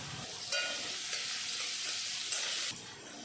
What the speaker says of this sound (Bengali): কড়াইতে দিয়ে দিলাম আর একটু সাদা তেল। তারপরে দিয়ে দিলাম পেঁয়াজ কুচি।